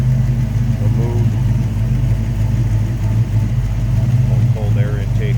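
A 1991 Ford Mustang LX with a cold air intake and smog equipment removed runs steadily at idle, a loud, close, continuous low engine rumble with faint background chatter.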